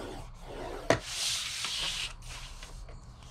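Paper card stock scored on a scoreboard for a custom cookie box, heard as a steady close scraping rub with a sharp click near one second and brief pauses in between.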